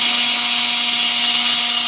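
A rotary tool fitted with a bladed cutter burr whirring steadily while cutting into wood, producing a loud, constant high-pitched motor whine with no pauses.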